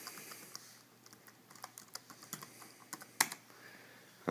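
Password keys tapped on a ThinkPad X220 Tablet laptop keyboard, a loose scatter of quiet, close clicks with one sharper key strike near the end, no talking.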